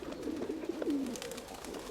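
Pigeons coo softly in a loft on a damp, windless morning after overnight rain, a single low warbling coo rising and falling near by, quiet against faint background noise.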